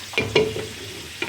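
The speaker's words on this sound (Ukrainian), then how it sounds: "І це все тепер обсмажуємо." Mushrooms and onion frying in a pan with a soft sizzle, broken by a few scraping stirs of a spatula, close by.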